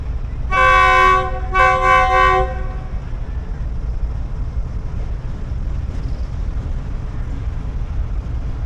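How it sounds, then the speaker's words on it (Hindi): The Hazara Express locomotive sounds two loud horn blasts while shunting, then settles into a low, steady rumble. "शंट कर रहा है जी।"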